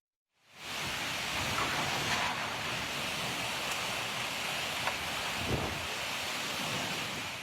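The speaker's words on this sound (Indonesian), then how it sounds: "Video amatir merekam saat hujan deras disertai angin ribut melanda kota Jember, Jawa Timur." Heavy rain driven by a violent windstorm in Jember, East Java, roars as a dense, continuous wash after a short silent start, steady and loud with a few faint gust swells and no voices.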